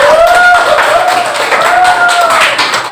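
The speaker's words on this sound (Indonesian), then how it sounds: "Tepuk tangan untuk kelompok 3." A classroom group claps together for about three seconds, a dense, steady patter of hands with a voice faintly over it before it stops abruptly.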